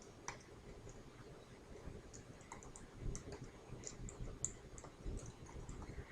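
Keys clicking at a computer keyboard while a macro name is entered in Excel, a steady run of light close taps with no talking.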